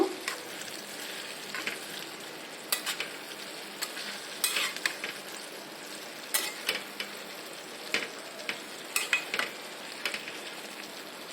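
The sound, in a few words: stirring red amaranth greens (laal shaak) in a pan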